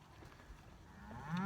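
A heifer moos at the end of a brief, quiet stretch of outdoor cattle-pen ambience; the low call swells in and rises in loudness at close range.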